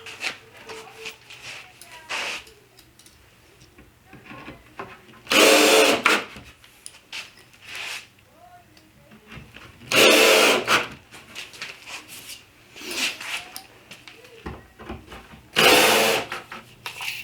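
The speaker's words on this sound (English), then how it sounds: "drill some pilot holes, put some screws in place" A power drill driving screws into wood whirs in short bursts, three or four loud runs separated by quieter workshop handling noises and faint movement, during a kitchen island build.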